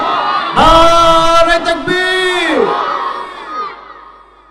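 Large outdoor crowd of thousands at a religious gathering bellowing in loud unison in answer to a takbir call, a powerful sustained chant that swells then fades away.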